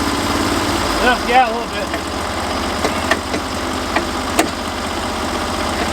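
A motor runs at a steady, rhythmic idle nearby with a low chugging pulse, while people talk briefly over it and a few light clicks and knocks sound in the background.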